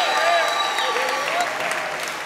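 A theater audience at a live unplugged concert applauds the bass player as he is introduced; sustained clapping with faint tonal whistles or cheers on top, steady and fairly full, slowly easing off.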